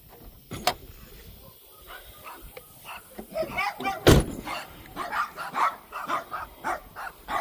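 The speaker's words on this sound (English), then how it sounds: "barky dogs." Several dogs bark in sharp, scattered bursts, one loud yelp standing out near the middle, while people talk nearby over the ongoing activity.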